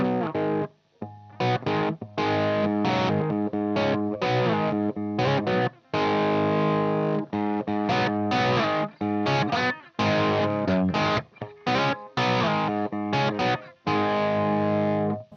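A distorted PRS single-cut electric guitar on its bridge pickup plays choppy chords and riffs with a bright, biting tone, loud and close, with brief pauses between phrases.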